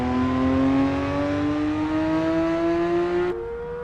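A Porsche race car engine on the Nordschleife in Assetto Corsa EVO, a loud, steady engine tone that rises slowly under load, then drops sharply at an upshift just before the end.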